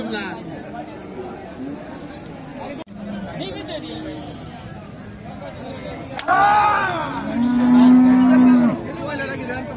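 Cattle at the Hozrotpur haat livestock market let out a loud, drawn-out moo up close, heard over the constant chatter of a crowd of people talking nearby.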